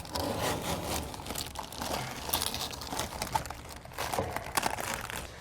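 A protective plastic film is peeled off the face of a RetraxPRO MX hard tonneau cover canister on a 2018 Ford F-150, a steady close crinkling and crackling rustle lasting several seconds with no talking.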